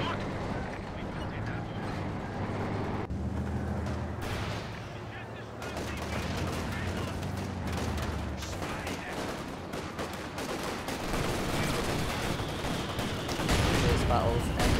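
A busy battle in a Company of Heroes style strategy game, likely USF mortars and an MG42 firing, with dense crackling gunfire, bursts and thumping explosions that rumble on steadily throughout, under an excited commentator's voice.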